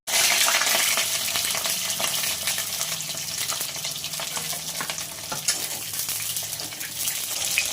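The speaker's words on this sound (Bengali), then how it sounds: "এবার আমি একে একে সব সবজিগুলো ভেজে" Mixed vegetables fry in hot oil in a wok, giving a steady close crackling sizzle with scattered clinks and stirring noises throughout.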